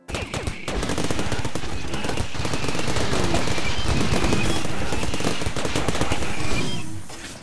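Rapid automatic gunfire in the modded colony-defense game RimWorld, a dense continuous burst of shots that runs loud for several seconds before tapering off, with no voices over it.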